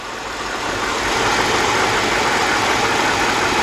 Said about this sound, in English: Oh yeah, that's much quieter. But we did notice in the beginning it ran a little rough